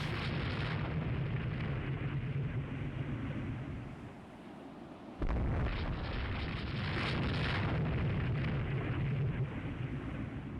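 Heavy naval gunfire from warships in the Rule the Waves 3 battle, a dense roaring rumble of cannon blasts and booming shots that dips briefly, then resumes with a loud renewed salvo.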